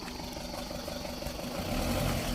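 A 2013 Tata Sumo Gold diesel engine runs close by, a steady rough mechanical hum that rises slightly in level as it is revved.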